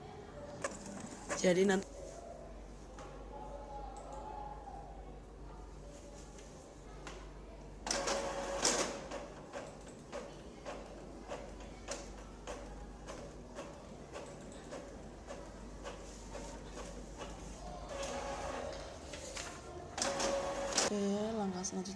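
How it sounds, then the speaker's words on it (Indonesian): An office document printer runs during archive-management training, giving repeated mechanical feed bursts over a steady low hum, with a person speaking throughout. "kalau sudah siap kita mulai print, tekan OK"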